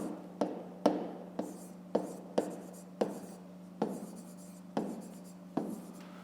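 A pen writes out a fifth-grade math solution on paper, a close series of short scratchy strokes and taps at an uneven rhythm over a faint steady hum, with no speech.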